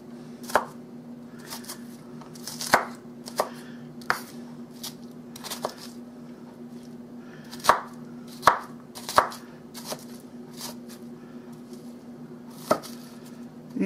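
Cabbage chopped with a knife on a cutting board: irregular sharp, close knocks scattered over a steady low background hum.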